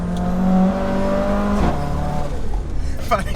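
A 630bhp big-turbo Mercedes A45 AMG with a screamer pipe exhaust drones loudly and steadily up close, its engine note shifting in pitch midway through, with a brief sharp burst near the end.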